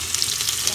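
Cumin seeds hit hot oil inside a pressure cooker while making veg pulao, giving a steady, close, bright sizzle with crackling throughout and no voice on top.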